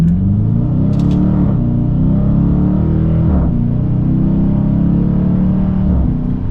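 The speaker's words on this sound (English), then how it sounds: "That great grunt out of this V8. You got that exhaust that sounds terrific in here." A V8 in a 2023 Dodge Challenger R/T revs up and settles with a deep, throaty exhaust grunt, heard from inside the cabin, loud and steady with rising and falling engine tones.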